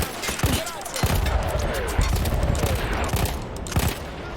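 Battlefield 1 game gunfire in an Italian campaign mission, with sharp shots and rapid bursts going off loud and close throughout, mixed with other battle noise and a voice talking over it.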